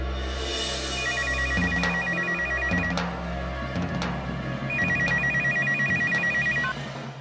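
A telephone rings in two long electronic trilling bursts separated by a pause, loud and close, over a background music bed with occasional sharp percussive hits.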